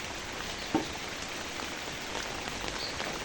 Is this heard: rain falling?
yes